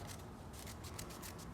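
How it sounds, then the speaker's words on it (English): Scissors snipping through a sheet of paper folded many times into a small bundle, giving a quick run of crisp, rhythmic cutting crunches close by, with steady low background noise and no talking. "I'm gonna fold it all the way up till it's only this big, and then cut it exactly in half."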